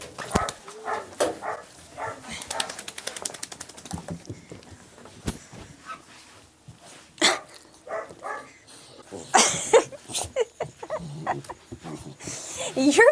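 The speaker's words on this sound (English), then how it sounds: "I heard the growling." Dogs at a rescue shelter in Turks and Caicos, heard in a series of short vocal bursts, yips and whimpers that come and go near and loud, with a person talking between them.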